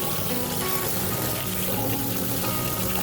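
Water pouring and splashing as bowls for ducks and geese are filled on a farm, a steady, continuous close rush of liquid with no talk.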